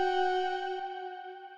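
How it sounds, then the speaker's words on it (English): Synth tone run through auto-pan and long reverb, a steady bright chord with strong harmonics slowly decaying as its lingering tail rings out, with a faint tick midway; no talking. "then those really long reverb tails"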